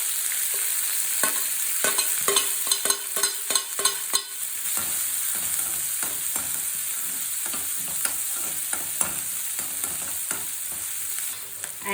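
Green chili fries in hot oil in a kadai with cumin and mustard seeds. A steady close sizzle runs throughout, broken by a quick run of sharp spatters and stirring clicks early on.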